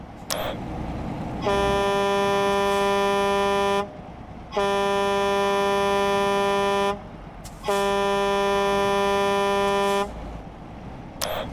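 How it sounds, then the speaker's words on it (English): A loud, deep truck air horn in a video game blares in three long blasts, each lasting a couple of seconds with short gaps between. "the long truck horn"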